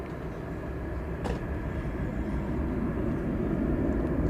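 An airliner, flight 814, on the runway at night at DFW Airport, a low heavy engine rumble that swells steadily louder over a few seconds, close and continuous with no voices.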